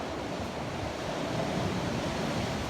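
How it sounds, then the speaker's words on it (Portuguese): Rough sea waves surge and crash inside a coastal cave at Lapa in Setúbal, a steady, dense roar of churning surf echoing close by, with no voices. "é o som do mar. E são as Ondas. bravas."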